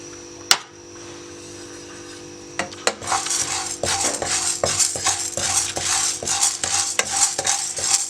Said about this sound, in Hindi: और दानों को थोड़ा सा भून लें।